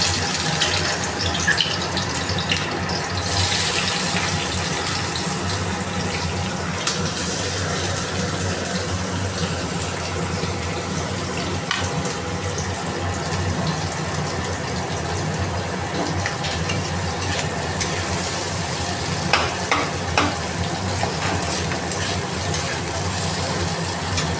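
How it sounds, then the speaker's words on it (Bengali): Chopped onions frying in hot oil in a wok, with salt added, a loud, continuous rushing sizzle that holds steady for the whole stretch, with a few brief sharper bursts and no talk. "এবার পেঁয়াজগুলো লাল লাল করে ভাজবো।"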